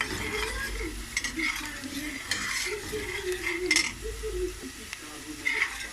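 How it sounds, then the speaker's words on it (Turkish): Steady sizzling of onions sautéing in oil, with a utensil stirring and scraping the pan throughout, close and continuous. "Bir miktar yağ ile birlikte soteleyelim."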